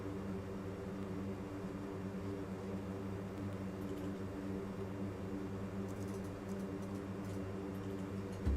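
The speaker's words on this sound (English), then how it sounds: "we're going to set our thrust levers into the takeoff detent" Four turboprop engines of a C-130J transport aircraft in the DCS flight simulator, heard from the cockpit as a steady low droning hum with layered tonal whine, held at a constant level.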